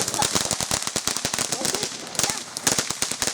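Fireworks go off on July 4th in a rapid string of sharp, loud crackling pops with short gaps between them, like a string of firecrackers, close by.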